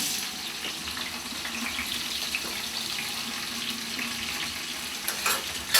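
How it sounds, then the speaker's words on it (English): Hot water hitting frittata vegetables in a pan gives a steady, close sizzle and hiss that holds evenly throughout, with a few brief clinks near the end and no talking. "She will add a tablespoon of hot water, and that whenever she makes the frittata, and that will cause the vegetables to cook faster."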